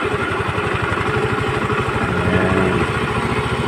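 A Rusi Gala motorcycle engine runs steadily during carburetor tuning, a loud, close, rapid mid-pitched putter with a rough mechanical clatter and no pauses.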